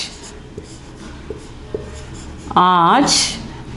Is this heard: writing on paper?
yes